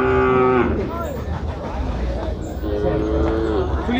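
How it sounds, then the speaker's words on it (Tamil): A native Kangeyam cow moos loudly and close at a busy cattle market, with a long low call standing out over crowd noise and voices. "நாட்டு மாடு"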